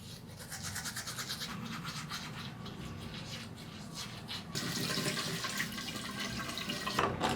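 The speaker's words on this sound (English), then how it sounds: "First thing I do before I even wash my face is brush my teeth." Teeth being brushed with a toothbrush at a bathroom sink, a close, steady bristly scrubbing that grows louder and wetter partway through, alone with no voices.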